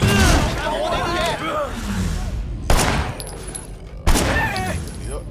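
Gunfire and sharp shots in the Sleeping Dogs video game, loud broadband bursts with two sudden blasts standing out, over a busy backdrop while voices talk throughout.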